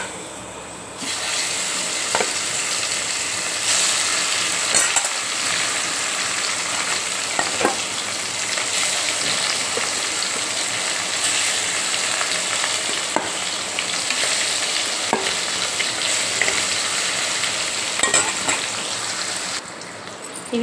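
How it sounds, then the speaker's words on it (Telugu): Fish pieces (korameenu) shallow-frying village-style in hot oil, a steady dense sizzle and crackle running continuously for the whole stretch with occasional brief pops and stirring clicks, close and fairly loud, no talking. "మిగతా ముక్కలు కూడా ఇట్లనే ఫ్రై చేసుకోవాలి."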